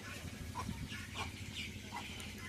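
Chickens and guinea fowl cluck and chatter softly, several short calls scattered over a noisy farmyard background.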